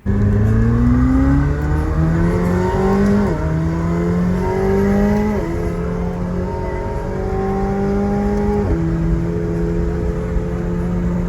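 McLaren 750S supercar lapping the F1 Las Vegas street circuit, its engine loud and close, repeatedly revving up through the gears with sharp shift drops, sustained and aggressive throughout.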